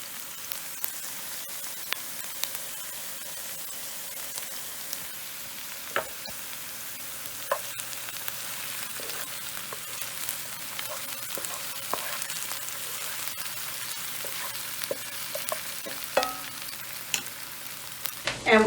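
Onions fry to golden brown in a pan for homemade potato soup. The sizzle stays low and steady, broken by frequent small pops and crackles and by occasional stirring clicks, with no voices.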